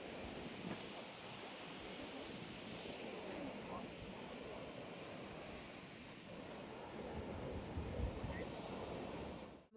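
Ocean surf rolls continuously at a beach in Udupi, a broad wash of breaking waves mixed with wind buffeting the microphone, steady and fairly faint throughout.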